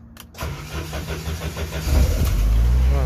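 A Jeep engine cranks and catches after a fusible link repair, the rhythmic starter whirring building for over a second before firing into a loud, close, steady idle.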